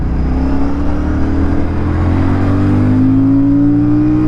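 Royal Enfield Shotgun 650 parallel-twin motorcycle pulling hard under load, a steady loud engine drone with rising harmonics as revs climb through a gear, no pauses, heard close up from the rider's position.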